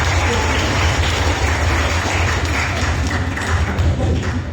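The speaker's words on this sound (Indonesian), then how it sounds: "tepuk tangan dulu dong buat Elora." An audience at a school event at SMK Wisata Harmas applauds for Elora, a dense, even roar of clapping that holds steady throughout.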